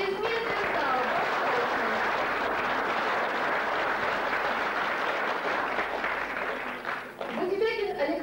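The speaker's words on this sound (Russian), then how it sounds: "Аплодисменты в зал." Audience applause in a hall during a 1995 city day ceremony in Sayanogorsk, a dense, steady wash of clapping lasting throughout, with a voice speaking over it near the end.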